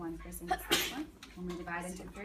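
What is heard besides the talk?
student sneezing in class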